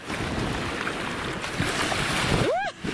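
Steady roar of surf and wind buffeting the microphone, with a brief rising, whooping cry near the end.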